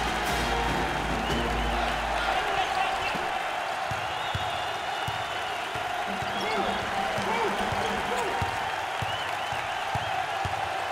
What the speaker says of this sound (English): Listen to that reaction by the crowd. They're loving it.